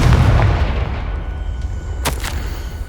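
A Confringo fire spell blast in the Hogwarts Legacy video game lands as a loud, deep booming burst that rumbles and fades, followed by a couple of sharp crackles.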